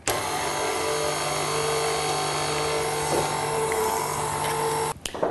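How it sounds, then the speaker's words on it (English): An electric whisking machine beats a chocolate brownie mixture, giving a loud, steady high whine that runs continuously for about five seconds before stopping abruptly, with no talk over it. "Now, I have this lovely machine, maybe not everybody does, and I'm sorry, but it does make life very easy. So I'm going to whisk these together"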